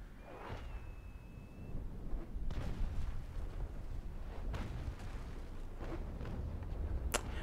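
Naval warship cannon fire in the Naval Action sailing game: a few muffled booms roll out over a steady low rumble, with no talk, ending in a sharp crack near the close.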